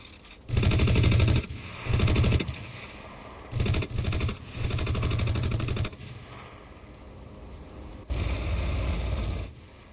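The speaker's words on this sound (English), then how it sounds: "apparently there's a machine gun in the nose that I can control" A bomber's nose machine gun fires in the video game Enlisted: loud, rapid bursts of gunfire separated by short gaps, with a longer final burst after a quieter stretch.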